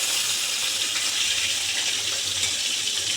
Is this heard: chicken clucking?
no